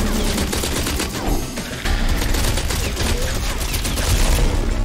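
Rifle fire in the video game Beyond Extinct, a loud, dense barrage of rapid shots with crackling impacts that continues nearly without pause, briefly dipping before resuming.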